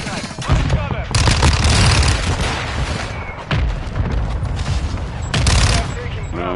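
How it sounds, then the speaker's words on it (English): Mortar strike explosions from the Modern Warfare 2 video game, loud heavy booms and sustained bursts of gunfire that run nearly nonstop with brief dips, mixed with battlefield chatter over the action. "Hostiles launched a mortar strike."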